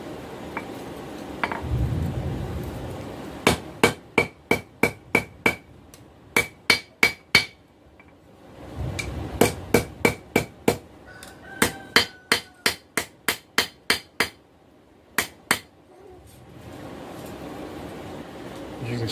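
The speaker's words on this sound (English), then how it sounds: "what I'm doing here is forging it fairly close" Hammer blows forge a swept point skinner knife blade on an anvil, sharp ringing strikes in quick bursts of several, with pauses between runs and a low background hum.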